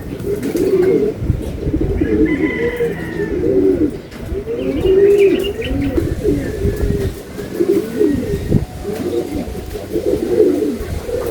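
Pigeons or doves, three birds arriving, give repeated low cooing calls with occasional chirps in a steady outdoor scene, fairly close, with a constant background hum of wind or traffic.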